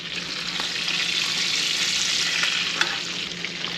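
A porterhouse steak sears loudly in a pan in a steady, close sizzle, with a brief scrape or tap as it is flipped; no talking.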